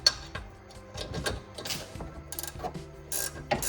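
Ratchet wrench turned downward to loosen a rear suspension bolt on a 2020 Honda Civic Sport FK7, giving bursts of close, rapid clicking with short pauses between strokes and no talking.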